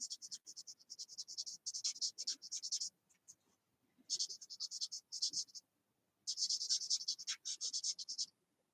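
A pencil scratches and shades across a paper card while coloring a party fox design, in rhythmic bursts of close, dry strokes separated by brief pauses.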